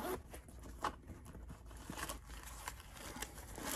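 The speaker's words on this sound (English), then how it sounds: "They have two zippers. So let's open it up." A travel carry-on backpack with a nylon back and two zippers is unzipped nearby, giving a run of quick, raspy zipper pulls and a few rustles of fabric, with no talking.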